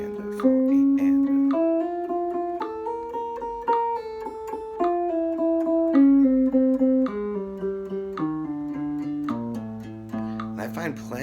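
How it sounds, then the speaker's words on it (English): Electric or acoustic guitar plays a steady sixteenth-note exercise using hammer-ons from first to second finger, the notes running in even, connected groups with clear pitched lines, close and alone. "I'm going to do a hammer-on when I go from the first finger to the second finger instead of picking that"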